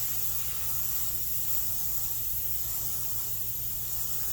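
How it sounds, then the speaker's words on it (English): A steady, even hiss of aerosol spray paint on a Chevelle runs continuously at moderate level, with no voices. "I'm spraying with just on the bottom half, and that will keep that edge really tight."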